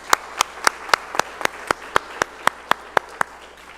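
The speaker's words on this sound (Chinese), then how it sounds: "好，我们来鼓掌欢迎" A church congregation at a Kaohsiung Sunday worship service claps together in welcome of a visitor, about a dozen crisp, evenly spaced claps in a steady unison rhythm.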